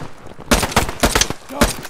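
Video game gunfire from a wartime shooter against German enemies, several loud close bursts of shots in quick succession, with a voice briefly heard.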